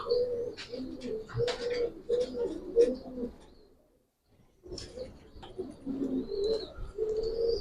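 Giribaz pigeons cooing inside a loft, repeated soft throaty coos and a few chirps close by, pausing briefly midway before resuming, with no talk.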